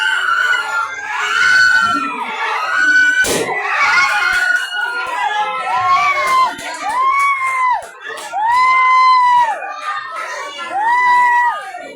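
A crowd screams and shouts together at an event, a loud, sustained wall of voices with rising and falling cries repeating over several seconds.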